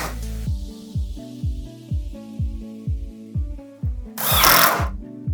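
A power drill drives large black screws into pre-drilled holes on a lazy Susan base cabinet, a series of short, evenly spaced whirring bursts close up, followed by a louder hissing burst near the end.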